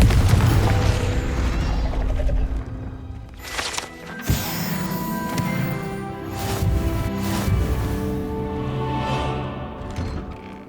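Confringo fire spell cast in Hogwarts Legacy, a sharp booming blast near the middle followed by crackling, rumbling debris and mechanical clatter over a dense game background.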